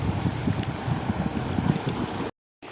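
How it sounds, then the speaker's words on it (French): Steady wind buffets the microphone in a low, rumbling roar, then cuts out abruptly for a moment before returning. "Ah, un peu de vent, ça fait du bien."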